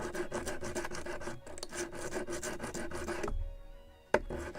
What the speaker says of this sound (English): Maybe a little more sanding on this side.